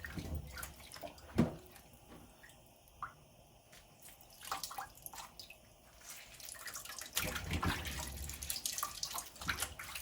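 Tap water runs steadily over a whole lemon being washed, a continuous splashing stream with occasional louder drips and knocks, close and moderately quiet, with no talking.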